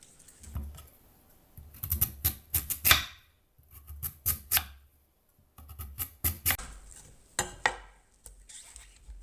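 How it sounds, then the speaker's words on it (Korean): A knife slices through firm daikon radish into thick rounds on a board, giving quick bursts of crisp crunching cuts in three clusters separated by short pauses, close and clear. "이렇게 무를 어, 잘라 보겠습니다."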